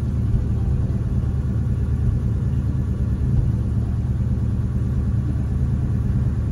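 A car engine idles at a stop sign, a steady low rumble that stays even and close for several seconds with no talk.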